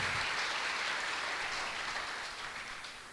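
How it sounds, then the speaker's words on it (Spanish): A church congregation applauds in a steady wash of clapping that is fairly faint and slowly fades toward the end, with no voices over it. "Yo que tú se lo daba más fuerte ese aplauso."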